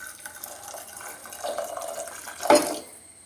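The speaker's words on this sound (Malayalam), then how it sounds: "ഞാൻ ചൂടുവെള്ളമാണ് ഒഴിക്കുന്നത്." Hot water is poured from a kettle into chickpeas in a pot, a soft, steady trickle that ends in a brief louder splash near the finish, with no talking.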